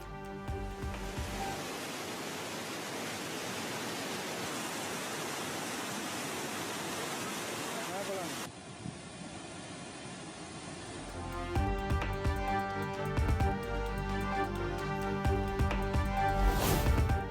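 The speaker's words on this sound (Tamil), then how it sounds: "கோவை குற்றாலத்தில் கடும் வெள்ளப்பெருக்கு." Flooded waterfall at Kovai Kutralam, a dense, steady roar of rushing water that continues throughout, with the character of the rush shifting partway through and growing louder and brighter toward the end.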